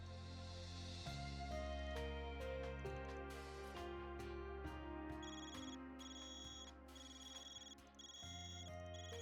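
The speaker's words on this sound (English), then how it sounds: "your Zyph is ringing" A Zyph phone rings in the video game Trails Beyond the Horizon, sounding as a steady electronic ringtone over the game's background music, with repeated bright tonal chimes throughout.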